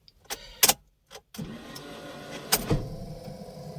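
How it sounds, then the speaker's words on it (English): A Toyota Vios tries to start but the starter fails to engage, giving a few short mechanical bursts followed by a longer steady whirring drone, close and moderately loud. "It's like the starter is not engaging."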